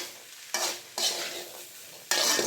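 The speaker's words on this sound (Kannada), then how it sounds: "ಕಡಿಮೆ ಊರಿನಲ್ಲಿ ಹಿಟ್ಟು ಮಿಕ್ಸ್ ಮಾಡಿ" Flour mixture stirred in a pan over a low flame, with three bursts of scraping, hissing strokes separated by short pauses, close and fairly quiet.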